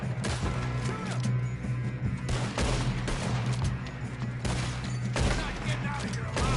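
Gunfire in a western film shootout rings out as rapid, loud volleys of shots layered with dramatic music and tense voices shouting.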